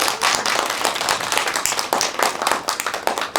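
Audience applause welcoming a family representative to the stage at a disability family speech contest, dense sustained clapping from a crowd filling the whole stretch, steady and fairly loud without a break.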